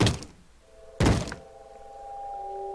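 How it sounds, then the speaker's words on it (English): Someone smashing on a door in the Minecraft video game, two heavy wooden thuds about a second apart, followed by a sustained low tone in the background. "I hear someone smashing on a door"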